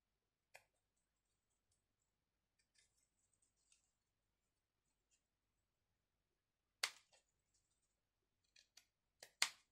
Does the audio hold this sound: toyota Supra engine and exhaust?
no